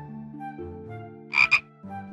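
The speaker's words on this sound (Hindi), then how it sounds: "दोनों ने जहाँ से आवाज आई वहाँ देखा, पूल के नजदीक एक मेंढक था" A cartoon frog croaks near a pool, two short, bright croaks rising over a soft musical score, close and clear.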